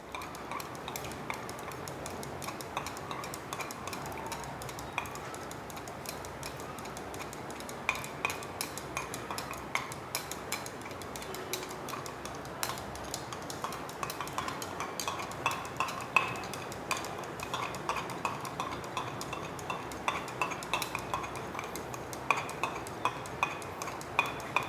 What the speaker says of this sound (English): 60 ml of coconut oil with constant stirring